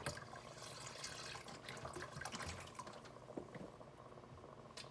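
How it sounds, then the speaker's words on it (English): Chicken broth poured into a seafood gumbo pot makes a steady, soft liquid splashing and gurgling for several seconds, close and fairly quiet, with no talking. "this is my chicken broth, so I'm just gonna pour that inside."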